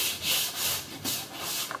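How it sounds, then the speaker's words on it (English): Hand sanding block worked over thin plywood on a cheap tin teardrop camper, giving broad rasping strokes that swell and fade in a steady back-and-forth rhythm, close and moderately loud, with no talk. "sanding with the block with long strokes"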